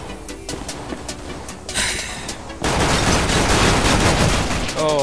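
Gunfire in a competitive CS:GO match, quick shots crackling at first, then a loud sustained burst of rapid fire that dominates the end.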